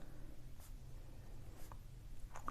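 A pen scratching faintly across paper, soft intermittent strokes heard close but quiet over a low steady background hum.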